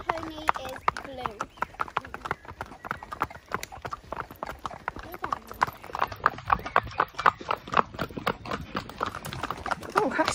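A pony's hooves clip-clop in a steady walking rhythm on a hack ride with other horses, close and clear, while people talk over the hoofbeats.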